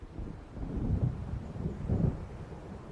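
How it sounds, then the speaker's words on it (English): Low rolling thunder of a storm approaching over waves in the video game Alan Wake, a distant rumble swelling twice with a steady noisy wash beneath. "It seems there's a storm coming."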